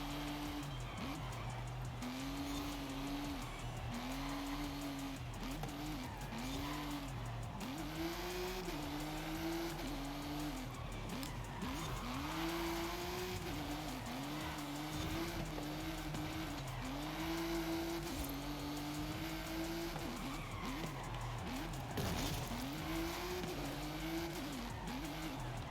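Race cars in the Forza Horizon 5 video game roar continuously, engines rising and falling in repeated revving sweeps as gears shift, with occasional tire squeal, loud and steady throughout with no talking.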